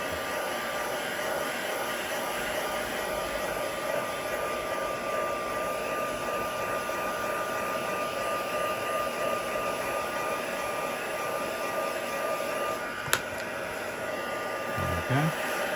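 A hair dryer blows steadily and loudly for the whole stretch, drying a card coloured with watercolour pencils, a constant close whooshing drone with only a brief click near the end and no talking.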